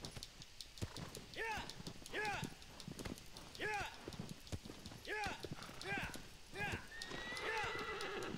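In the video game Shadow of the Colossus, a horse's rhythmic clip-clop hoofbeats run throughout, broken by repeated whinnies, while someone talks over the game audio.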